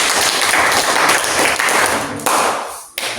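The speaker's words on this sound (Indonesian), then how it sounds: "tepuk tangan dulu" A classroom of students claps together after a group presentation in an Indonesian history lesson: loud, close, somewhat ragged clapping that drops out briefly, then resumes near the end.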